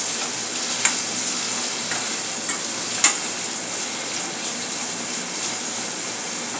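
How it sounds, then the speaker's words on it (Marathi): Chopped onions sautéing in a pan for anda bhurji, a steady soft sizzle and hiss with a few faint clicks of stirring, moderately close and without talk. "आता यामध्ये कांदा घालून देऊया। कांदा चांगला परतून घेऊ।"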